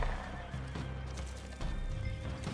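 A horse in the video game Red Dead Online whinnies and neighs loudly and close, with hoof clip-clops mixed in, over a steady background of game ambience.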